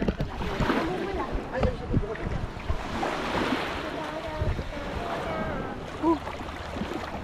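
Waves wash and surge steadily near the shore, mixed with gusty wind buffeting the microphone, and voices can be heard faintly at times.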